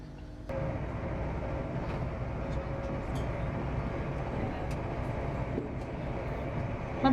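A fast passenger train on the line from Doncaster to Kings Cross near Newark North Gate, heard from inside as a steady, loud rumble and roar with constant wheel and track noise throughout.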